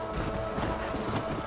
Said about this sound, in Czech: To je nějaký alfa kůň.